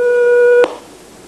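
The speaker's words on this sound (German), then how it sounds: "Ah, ich bekomme ein Freizeichen." Telephone ringback tone heard after dialing a call, a single steady electronic tone lasting about half a second before cutting off into quiet line hiss.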